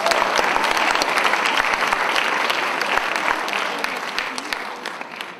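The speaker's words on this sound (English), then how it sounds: "a big round of applause for Kapil." Audience clapping after a ghatam arangetram performance of Carnatic music, a dense burst of many hands close and loud, gradually thinning and tapering off toward the end.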